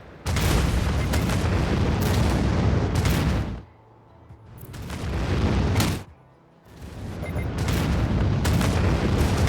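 Ships blown apart in the space strategy game Anno 2205 make rumbling gunfire and explosion effects in long loud bursts, broken by two short quiet gaps.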